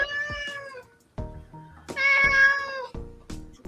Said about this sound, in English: sounds like a hungry kitty